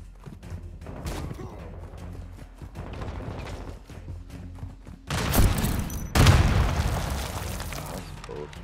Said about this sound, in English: Fucking proximity mines.